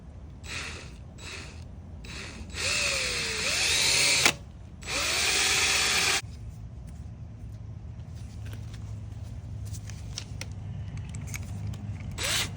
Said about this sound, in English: right there is where I'm going to drill